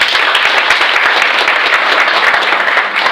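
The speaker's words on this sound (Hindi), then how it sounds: "सर के लिए एक बार जोरदार तालियां।" Loud, dense applause from an audience at a training seminar fills the room, a sustained burst of many hands clapping close by.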